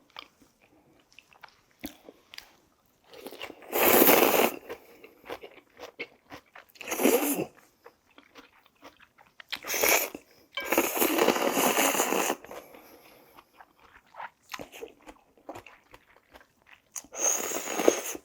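Close, crisp crunching and chewing of cucumber and radish eaten with diet cold buckwheat noodles (mul-naengmyeon), coming in several loud bursts of a second or two, with quiet gaps in between.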